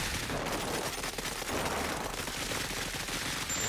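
Gunfire in the tactical game Cepheus Protocol, continuous overlapping distant shots and bursts with occasional duller thumps, a steady battle din throughout with no speech.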